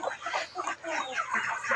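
Chickens cluck and murmur continuously up close on a small poultry farm of about 250 birds, including Kadaknath and Kaveri breeds and a few ducks, a busy flock mixed with a person's voice talking over them.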